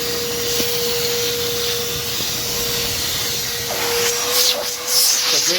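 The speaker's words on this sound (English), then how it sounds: "this is just a demonstration video, just to show you guys how good the vacuum is." A Dewalt DXV10SA 10-gallon stainless steel wet/dry vacuum runs continuously, a steady loud whooshing hiss with a constant motor whine, briefly fluttering near the end as the airflow changes.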